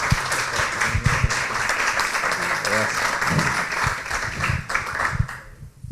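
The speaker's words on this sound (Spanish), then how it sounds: "Le damos un grande aplauso." Audience applause at a talk on cultural institutions in Uruguay, uneven clapping with a few loud close claps and thumps, voices talking through it, fading toward the end.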